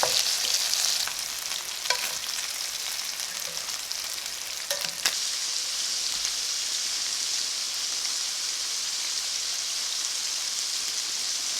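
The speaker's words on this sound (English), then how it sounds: "So the chicken is still frying." Chicken sizzles steadily in a hot pan, a loud, continuous frying crackle with a few sharper pops early on and no talking.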